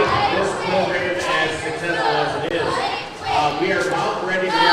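Crowd noise at a Special Olympics basketball game, a steady murmur of voices and chatter in a gym with occasional louder calls and cheers.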